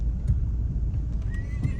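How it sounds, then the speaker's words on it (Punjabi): A horse whinnies briefly over a low rumbling background at the Muktsar livestock market in Punjab, with a few faint hoof-like knocks; no one speaks. "ਦੋਨੇ ਪਾਸਿਆਂ ਤੋਂ ਲੈ ਕੇ ਉਹ ਆਉਂਦਾ ਵਕੀਲ ਘੋੜਾ"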